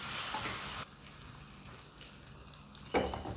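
Mango pieces and cashews sautéing in a pan for Ugadi mango payasam: a bright burst of sizzling that drops to a quieter simmering crackle, then flares loudly again near the end as stirring resumes.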